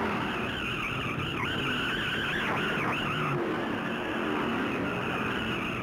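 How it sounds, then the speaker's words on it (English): A 1964 Ford stock car skids down the main straightaway at Darlington during the Southern 500, its tires squealing in wavering high tones over the constant roar of racing engines and crowd. "Tiny Lund's Ford skates down the main straightaway"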